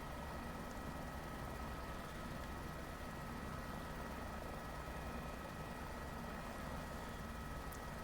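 Helicopter in Microsoft Flight Simulator 2024 flying at low altitude, a steady, faint rotor and turbine drone held constant throughout with no voices.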